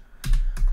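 Keystrokes on a computer keyboard while entering an SSH key-generation command on a Windows machine, heard as two short close bursts of clicking taps with a pause between.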